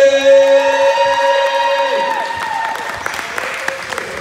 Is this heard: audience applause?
yes